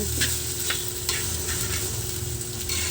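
A spoon or spatula stirs a homemade snack frying in a pan, repeated scraping strokes over a steady close sizzle, with no one talking.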